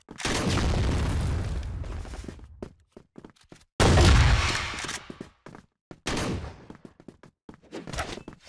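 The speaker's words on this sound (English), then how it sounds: "Grenade!" A grenade detonates in the shooter game CrossFire West, with two loud booming blasts that ring out and decay, followed by scattered sharp clicks and smaller bangs.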